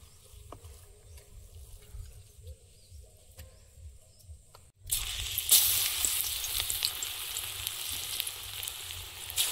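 Spinach fritters frying in oil in a home kitchen, quiet crackling at first, then a sudden loud, steady sizzle that continues to the end.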